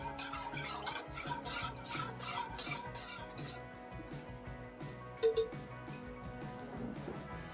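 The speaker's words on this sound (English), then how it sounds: "I'm going to use my spoon to stir it." A spoon stirring hot party mix in a container: busy, scraping and clinking rustle close by, steady through most of the stretch with a couple of brighter clinks.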